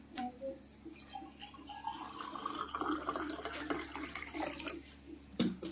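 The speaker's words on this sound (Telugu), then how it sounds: "దీంట్లో నేనైతే వాటర్ వేస్తున్నా, నార్మల్ వాటర్." Plain tap water poured into two glasses, a steady trickling splash running throughout at close range, with a brief louder clink near the end.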